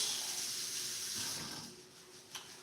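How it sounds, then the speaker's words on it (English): Cold water runs steadily from a kitchen tap, rinsing a bunch of fresh parsley under the stream while meatballs are being made; the splashing hiss is close and constant, easing slightly near the end. "Just gonna cold water rinse."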